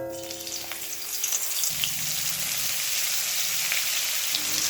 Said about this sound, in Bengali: পেঁয়াজের কাঁচা গন্ধ চলে যাওয়া অবধি 2 মিনিট ভেজে নেব।